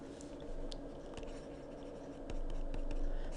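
Marker or chalk scratches and taps across a board while an integration problem is being worked, a steady run of close strokes with no talking.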